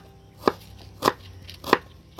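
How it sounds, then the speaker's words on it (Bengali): Onions are chopped on a board with a knife for a Bihari-style mutton curry: three sharp, close cuts spaced evenly apart, with no voices. "এই রকম কাটতে হবে পেঁয়াজগুলো"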